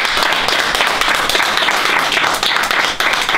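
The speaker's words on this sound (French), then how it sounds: "Je pense qu'on peut s'applaudir parce que c'était cool." A group of people applauds themselves in a loud burst of close, dense clapping that stays steady for a few seconds.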